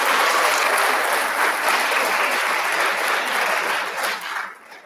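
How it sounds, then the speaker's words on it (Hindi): Audience applause fills a university pharmacy lecture hall, dense and loud, sustained for several seconds before tapering off at the end, with no talking over it. "ताली बजाइए।"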